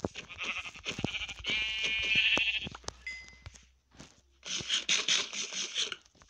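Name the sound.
sheep bleating in the video game Minecraft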